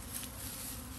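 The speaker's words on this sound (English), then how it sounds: "It's still a lot of them. It's a great swarm." A large swarm of bees buzzing, a steady faint hum that holds without a break through the short moment.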